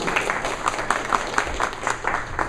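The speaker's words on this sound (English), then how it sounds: "I'm going to give you a round of applause" A meeting audience gives a round of applause, with close, loud clapping in uneven bursts and a rough, pulsing rhythm throughout.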